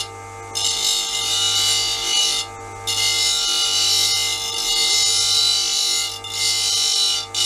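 A lathe chisel is ground on a grinding wheel, throwing sparks: the wheel hums steadily while the steel rasps against it in long, loud passes, briefly lifted off and pressed back several times, with no talking.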